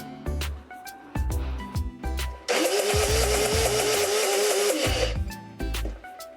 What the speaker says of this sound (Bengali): এক ইঞ্চি আদা চারটে কাঁচা লঙ্কা আর এক কোয়া রসুন দিয়ে ভালো করে মিক্সিতে পেস্ট করে নিলাম